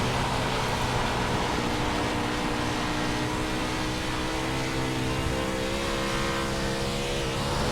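410 sprint car engine at full race speed on the Williams Grove track, a loud steady roar that stays close and constant throughout with slight rises in pitch.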